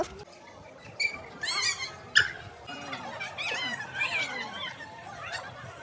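A dog whimpers and whines in short, high, wavering cries, close by, with a few sharper yelps among them.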